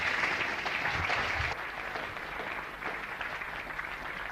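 An audience breaks into sustained applause to welcome architect Rem Koolhaas at a lecture, a steady wash of clapping that drops slightly in volume partway through and carries on to the end.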